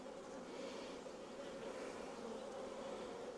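Honeybees buzz steadily around an open hive during a beekeeper's inspection, a continuous faint drone of many wings with no talking.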